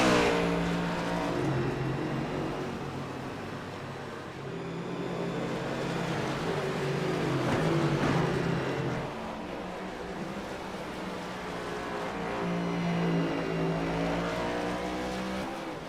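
Race cars in a racing video game lapping Watkins Glen, their engines roaring loudly and continuously, rising and falling in pitch as they accelerate and shift, with no voices.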